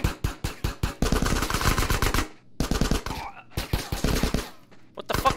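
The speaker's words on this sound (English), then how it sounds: "Oh, I'm shooting Smoke." Rapid bursts of in-game gunfire in Grand Theft Auto: San Andreas, loud and close, firing in clustered volleys with brief pauses and overlapping game effects.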